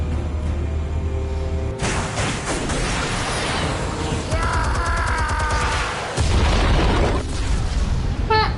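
Explosives going off in a Batman video game: a booming blast with crackling burst debris, loud and close, layered over game music and effects, with voices speaking around it.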